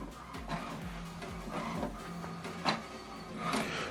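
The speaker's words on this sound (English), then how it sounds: "So what it's doing now, what is printing is alignment." An HP Deskjet 2700e inkjet printer runs an alignment page, its carriage whirring back and forth in rhythmic passes with clicks and paper-feed clunks, fairly quiet and close.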